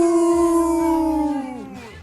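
A dog lets out a single loud, close howl lasting about two seconds, holding a steady pitch before sliding downward and trailing off, with no talking over it.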